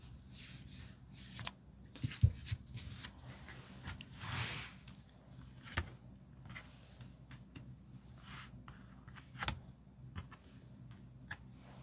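Tarot cards handled during a reading as five are picked, with scattered soft slides, taps and flicks of card against card and table, irregular and close, plus one longer swishing shuffle partway through, quiet with no talk.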